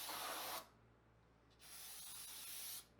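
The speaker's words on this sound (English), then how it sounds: "brake cleaner is your friend when it comes to clutch components" Brake cleaner sprayed onto clutch components of a turbocharged K24 AWD Civic during a twin-disc clutch install: two loud, close aerosol hiss bursts, the first about half a second, the second longer at over a second, separated by a quieter gap.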